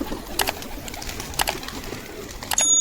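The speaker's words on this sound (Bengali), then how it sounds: "কবুতরগুলো সব খাচ্ছে এখন।" Pigeons let out to feed on grain and water, with short bursts of wing flutter and soft pecking or cooing, a few brief flurries over a steady low room murmur.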